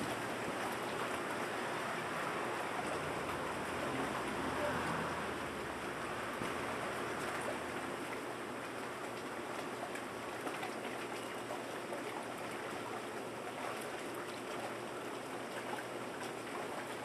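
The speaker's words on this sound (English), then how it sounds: "Pour it through a few more times." Water is poured through gypsum-treated soil in a container, a steady trickling and hissing wash that runs quietly and evenly throughout, with no voices.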